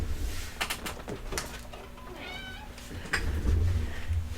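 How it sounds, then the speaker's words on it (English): A house cat meows at the door to be let back inside, a few short plaintive calls over indoor room noise. "my cat wants back in"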